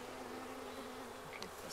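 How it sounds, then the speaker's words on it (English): A dense, steady hum of many honey bees buzzing together inside a hive in springtime, with a few brief higher buzzes from individual bees close by. "And there again you can see the bees."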